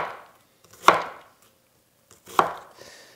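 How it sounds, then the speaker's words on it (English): Two crisp knife chops cut thin crosswise slices through an onion on a board, each a sharp isolated strike with a short tail, spaced about a second and a half apart in a quiet kitchen. "make a claw grip and make thin crosswise cuts"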